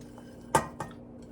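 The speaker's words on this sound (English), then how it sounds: "I'm going to add my broccoli." Raw broccoli dropped into a soup pot for a curry-seasoned broccoli cheddar soup, making a brief clatter of two quick knocks against the pot in a quiet kitchen.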